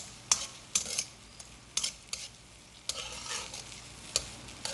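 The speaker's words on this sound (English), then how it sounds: "everything is beginning to caramelize" Vegetables sizzle and fry as they caramelize in a pan, with a steady hiss broken by several sharp stirring scrapes and clatters close by.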